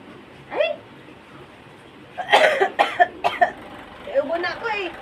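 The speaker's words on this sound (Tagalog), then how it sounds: "Ubo na ako eh." A person coughs in a quick burst of several short coughs, close by, with people talking around it in a casual home setting.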